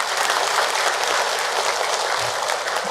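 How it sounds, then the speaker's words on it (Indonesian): Audience applause at a Ramadan religious talk, a loud, dense, continuous clapping from a large crowd held evenly throughout. "Tepuk tangan buat kita semua."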